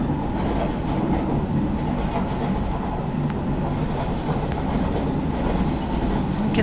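Train on the Zermatt line pulling into Stalden station in Switzerland, with steady loud rumbling of wheels on rails and a thin high squeal held throughout, close and continuous with no talk.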